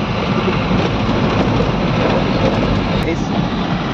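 Dense, steady rainfall hisses loudly and continuously, a broad wash of noise with no breaks.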